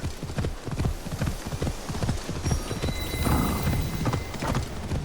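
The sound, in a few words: horse hooves clip-clopping in Assassin's Creed Shadows video game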